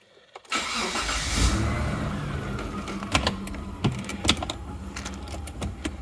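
Mitsubishi Pajero engine cranks and fires, a brief starter whir settling into a steady idle, with a few clicks and knocks over the running engine; no talking.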